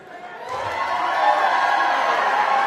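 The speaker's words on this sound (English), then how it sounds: "let's have one big, huge round of applause for Chris" A cosplay convention crowd cheers and claps for a performer, a broad roar of voices and hands swelling up after a quiet start and staying loud and sustained, with shouts mixed into the noise.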